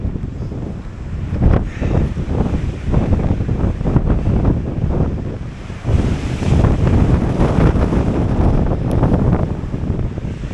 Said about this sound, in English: Have I mentioned how much I hate the wind?